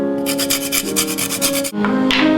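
Lime peel being zested for chimichurri, a steady scraping rub repeating in quick strokes for about two seconds, then a brief pause and a harsher scrape, close and fairly loud with a tonal hum underneath.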